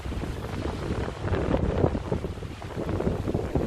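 Steady wind roars and buffets the microphone throughout, a continuous rushing noise with no voices.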